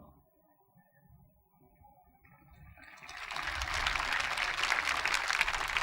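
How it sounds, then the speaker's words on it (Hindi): Applause from a large audience at a Hindu spiritual discourse by a sant, starting faintly after quiet and swelling into a loud, dense, sustained wash of clapping. "खाली ताली बजाने से काम नहीं चलेगा"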